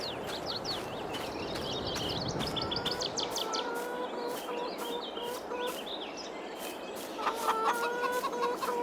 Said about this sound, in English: Go back and admire our chickens.